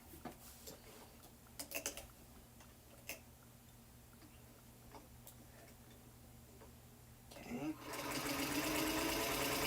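A sewing machine fitted with a walking foot quilts a block. Scattered light ticks from the needle come first, then a steady, close whir of stitching builds up toward the end.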